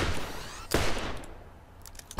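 Gunfire in Borderlands: Game of the Year Edition, a couple of loud, sharp shot bursts with ringing decay between them, the last one cut short at the end.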